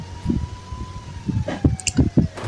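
A police siren wails steadily in the background while a series of sharp, punchy bursts of game sound effects hit in the foreground, from the video game Indian Bike Driving 3D.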